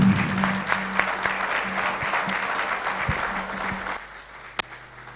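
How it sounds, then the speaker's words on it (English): An audience at an outdoor book launch event in Blantyre's Victoria Gardens breaks into steady, sustained applause, many hands clapping at moderate distance, thinning slightly toward the end, with faint voices underneath. "we can just give them a round of applause"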